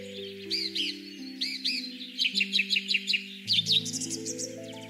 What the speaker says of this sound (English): Long-tailed tit, the tiny weaver of the forest.